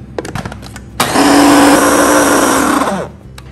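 Blender grinding yogurt and heavy whipping cream into a paste, a loud close whirring motor running steadily for about two seconds after a few clicks and knocks, then stopping.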